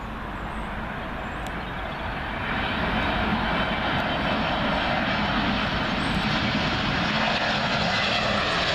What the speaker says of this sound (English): It's a Lufthansa A320neo in from Frankfurt.